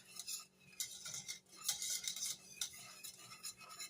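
Vanilla pudding is stirred in a pot, a utensil scraping and clinking against the metal in quick repeated strokes, soft and close with brief gaps between sweeps.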